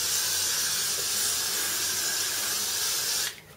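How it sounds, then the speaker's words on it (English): Tresemme 24-hour body hairspray sprayed onto waved hair in one long, steady, close hiss of about three seconds that cuts off abruptly. "all I'm going to do is set this with a hairspray"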